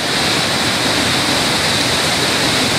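Cachoeira do Prata pours down in a loud, unbroken rush of falling water close by, its even hiss and roar holding steady throughout with no talking over it.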